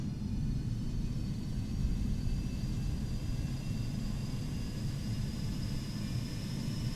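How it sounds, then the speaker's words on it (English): Aircraft auxiliary power unit running on the apron at Valencia airport, a steady loud low rumble with a faint high whine, continuous and unbroken throughout with no talk. "Okay, so our APU has fired."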